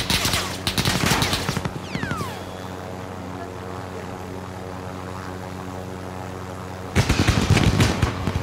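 Bursts of rapid automatic gunfire crackle loudly at the start and end in Call of Duty: Warzone, with a steady helicopter engine drone humming in between.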